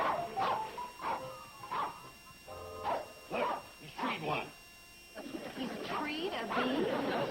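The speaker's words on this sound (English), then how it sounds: "The dog will keep barking and circling the tree while Bobbie Jo goes around this way." A hunting dog barks again and again in short bursts at a treed animal, fairly close, with some yips and whimpering sounds and a noisy stretch at the end.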